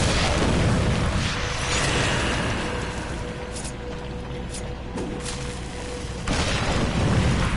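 Explosions in the video game Darksiders 2 make a loud, dense roar of blasts and rumbling game effects that dips slightly and then surges again.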